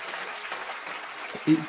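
Audience applause during a Tamil humorous public lecture, a soft diffuse spatter of clapping from a hall crowd, brief and fairly distant, with a thump near the end.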